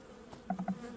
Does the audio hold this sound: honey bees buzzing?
yes